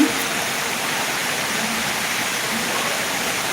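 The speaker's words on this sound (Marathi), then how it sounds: "खूप जोरात पाऊस चालू आहे" Heavy rain pours down in a dense, unbroken hiss, loud and close, with no voices over it.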